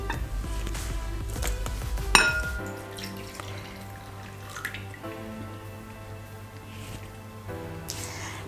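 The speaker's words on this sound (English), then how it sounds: "I'm going to pour the whole of this into the bigger bowl." Potato juice pours and splashes into a bowl, starting with a glassy clink and then trickling and dripping more gently.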